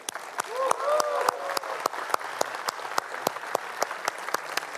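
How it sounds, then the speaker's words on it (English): An audience claps loudly for two speakers at a talk about making the animated series Arcane, with sharp, fairly sparse individual claps near and far and a brief voice calling out near the start. "I want some really loud applause for these guys."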